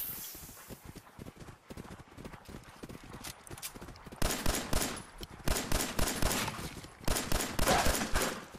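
Rapid bursts of gunfire from the video game Fallout 4, loud dense volleys crowding the second half after sparser shots, with irregular sharp cracks throughout.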